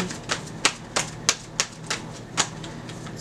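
Tarot cards shuffled by hand in a series of crisp, evenly spaced slaps and clicks, about three per second, close and moderately loud, with no talking.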